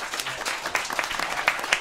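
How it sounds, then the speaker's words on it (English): Applause from a live podcast audience, a burst of clapping hands from a crowd heard close and fairly loud, rising in scattered sharp claps. "Round of applause again for me."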